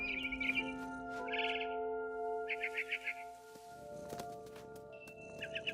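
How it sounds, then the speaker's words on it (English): Barn swallow chirping in the game What Remains of Edith Finch: bursts of bright twittering calls come and go over a steady hum of game ambience, fairly close. "Then I heard chirping outside my window. It was a barn swallow going back to her nest."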